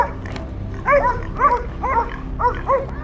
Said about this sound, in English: They quickly sniffed, barking loudly to signal that they had discovered the target.